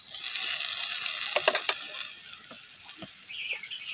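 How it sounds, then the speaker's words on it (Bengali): Chilies and onions fry in a pan for shrimp shutki bharta, a steady close sizzle with a few sharp crackles and stirring scrapes, no talk. "দেখুন, আমাদের মরিচ পেঁয়াজ কিন্তু ভাজা হয়ে গেছে"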